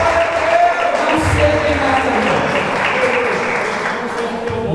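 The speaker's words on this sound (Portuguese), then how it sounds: "Você pode dar uma salva de palmas para Ele." A church congregation applauds in a broad, sustained wash of clapping while a preacher keeps speaking loudly over it.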